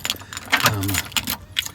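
A large bunch of keys jangles against an old house door as it swings open and shut, a bright metallic clatter in several quick bursts with a low thump partway through.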